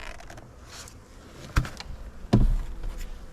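Honeybees at an opened hive number one, beside a nuc box, give off a faint, steady buzzing hum, broken by two sharp knocks or taps, likely from handling the hive lid.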